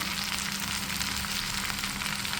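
Okra sizzles steadily as it fries in a pan with sautéed onions, a continuous close crackle with no one speaking.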